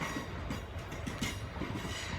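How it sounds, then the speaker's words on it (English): A Drax train rumbles along a railway in the distance, a steady low rolling noise with faint rhythmic clatter running throughout, heard outdoors on a countryside walk. "That's the Drax train."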